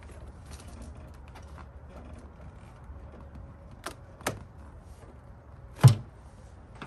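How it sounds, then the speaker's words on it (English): Hose clamps being popped off a factory air intake on a 5.3 engine, heard as a few sharp metallic snaps and clicks near the end over quiet fiddling and handling noise. "Let's go ahead and pop these clamps off."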